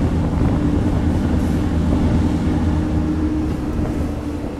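A passenger train pulls out of Bishramganj railway station in Tripura, heard from on board as a loud, steady low rumble and roar of wheels and wind, continuous and unbroken throughout.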